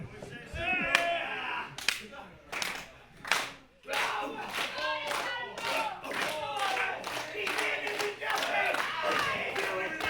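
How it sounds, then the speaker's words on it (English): A football crowd chants and claps in rhythm, with loud bursts of synchronized clapping and shouting voices rising over the stands, steady and close. "He's got the knees chant's getting too much for me."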